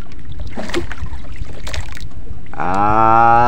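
A fishing boat out on the open sea, trolling for fish, with steady wind and water rush, then a rising, even motor drone taking over near the end.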